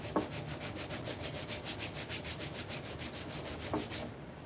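A wooden mallet is sanded by hand in a quick, even back-and-forth rhythm of scratchy rubbing strokes, close and steady for several seconds with no talking.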